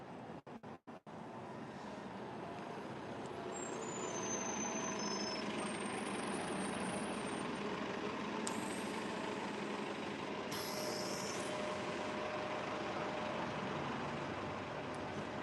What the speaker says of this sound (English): There's a good old DC bus with the Cylon eye going across the top there.